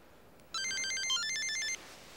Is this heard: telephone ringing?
yes